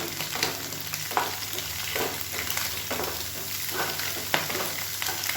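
Egg and masala frying in a pan for egg fried rice, a steady close sizzle with occasional spatula scrapes and taps.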